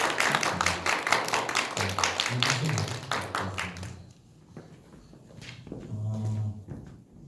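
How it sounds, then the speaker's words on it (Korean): A church youth service audience gives a short burst of dense clapping to welcome new teachers. It is loud at first, then thins into scattered claps and shuffling noises. "여러분 큰 박수로 환영해 주세요."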